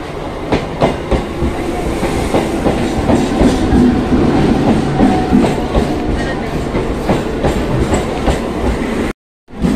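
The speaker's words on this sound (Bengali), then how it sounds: "আমাদের ট্রেন এই সবে মাত্র অ্যানাউন্সমেন্ট হলো, তো চলো ট্রেন আসুক" A Bombardier-built MEMU local passenger train of the Panskura car shed on the Santragachi–Kharagpur line arrives at a station, its loud continuous rumble and rhythmic clickety-clack of wheels filling the clip before a brief sudden dropout near the end.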